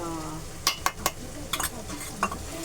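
Kaleji masala, liver cooked with onion, garlic and ginger, sautéed in a pan, with a low sizzle beneath several sharp metallic scrapes and taps of a spoon against the vessel, close and fairly quiet.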